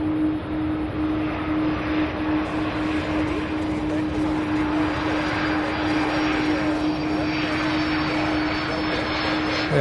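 An MD-11 jet airliner at Louisville airport produces a loud, continuous engine roar with a steady tonal whine, heard from a plane-spotting position for the full span.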